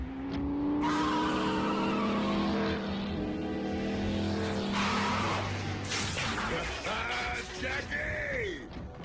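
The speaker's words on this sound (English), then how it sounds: "I'd know the hum of that engine anywhere." A car engine approaching in a Transformers Prime cartoon, rising engine drone with tonal whine, then a tire squeal and skid as it pulls in, loud and near, with brief vocal sounds.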